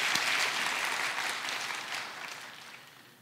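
A church congregation applauding children from the church school after their performance at a Sunday worship service, a dense burst of clapping that gradually fades over a few seconds.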